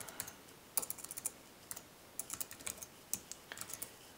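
Keys on a computer keyboard being typed while writing OpenGL keyboard-input code, irregular bursts of crisp clicks in quick clusters, close and fairly quiet, with no talking.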